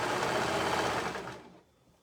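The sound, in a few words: sewing machine sewing cuff band onto shirt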